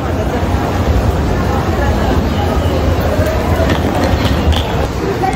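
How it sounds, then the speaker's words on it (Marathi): Ambient noise at a Japanese railway station ahead of a bullet train departure to Hiroshima: a steady, loud rumble of rail traffic and platform bustle, with a crowd murmuring throughout. "8:44ची बुलेट ट्रेन आहे."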